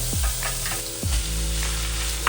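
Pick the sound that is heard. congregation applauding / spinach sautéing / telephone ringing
spinach sautéing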